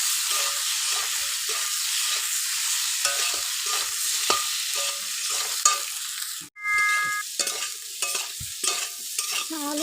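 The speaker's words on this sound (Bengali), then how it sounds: "কাঁচা লঙ্কা দিয়ে রাখো, কাঁচা লঙ্কা দিয়ে নেড়ে দিচ্ছি।" A spatula stirs potatoes and green chilies frying in a pan, giving a close, steady sizzle with repeated scraping strokes and a brief dropout partway through.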